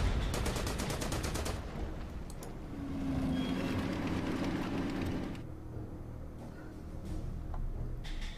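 Gunfire in the war strategy video game Order of Battle, a rapid rattling burst of shots at the start followed by a sustained rumbling mechanical din, steady and moderately loud, with no talk.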